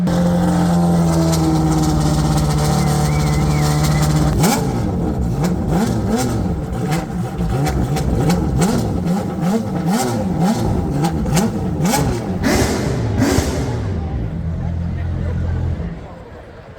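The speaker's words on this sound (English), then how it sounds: "they've started up the Renault Formula 1 car, the Red Bull" A Renault-engined Red Bull Formula 1 race car engine idles, then bursts into loud, repeated revving that rises and falls over a noisy crowd before cutting off near the end.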